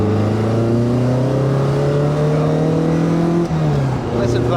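Lotus Elise S1 Analogue SuperSport engine revving hard as the car accelerates, a loud, rising drone with climbing harmonics heard from inside the cabin, a brief dip near the end like a gear change before pulling again.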